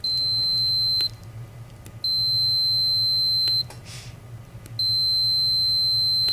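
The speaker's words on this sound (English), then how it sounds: "I hear the beep. So that's working." A TreadClimber quick start/stop keypad beeps electronically as its stop key pins are tested, giving three long steady high-pitched tones separated by short gaps, loud and close, with a low hum underneath and no talk.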